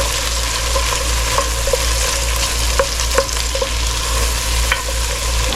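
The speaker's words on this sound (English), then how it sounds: "Stir it around for just about a minute." Onions fry in a pot for Brunswick stew while being stirred, a steady close sizzle broken by occasional clinks and scrapes of the spoon against the pot.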